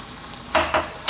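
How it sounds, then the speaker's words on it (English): Coconut milk poured into a hot pan of sizzling prawn curry, producing a quiet sizzle followed by a few short, louder bursts of hissing frying. "Now what we're going to do is add some coconut milk"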